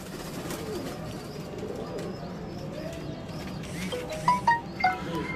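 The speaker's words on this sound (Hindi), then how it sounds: "ये लाल कबूतर जो आप आज जिसकी बात कर रहे हैं ये है वो लाखे कबूतर" Red Lakha pigeons on a rooftop loft, with soft cooing calls and a few sharper chirps near the end over a steady bed of outdoor background noise.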